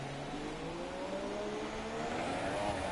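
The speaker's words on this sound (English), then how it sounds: "Cam's car sounds absolutely awful. Sounds like he's stuck in third gear." Racing car in a PS4 sprint league race at the Singapore circuit, its engine droning steadily at a strained pitch as if stuck in third gear, a continuous whining rev with rising harmonics and no talk over it.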